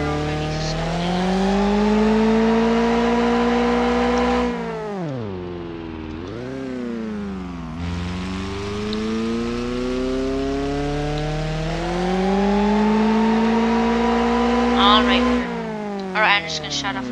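The Flying Pigeon aircraft engine drones with a steady, strongly tonal hum that dips and rises in pitch twice as it throttles down and back up, then holds steady. A person talks over it.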